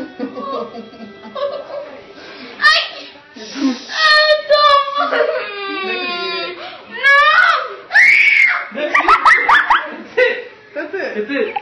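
A girl shrieks repeatedly over a mosquito hawk, high piercing screams mixed with nervous laughter and excited chatter from others nearby, loud and close.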